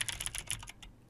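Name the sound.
computer keyboard keys pressed while playing rhythm game DJMAX RESPECT V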